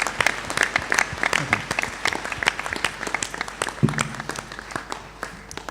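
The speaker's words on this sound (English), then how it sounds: "I now ask the members of the audience to applaud your accomplishments." A graduation ceremony audience at Monash Malaysia claps in dense, steady applause for the graduates, continuous and fairly loud, with a few isolated voices beneath it and no talking over the clapping.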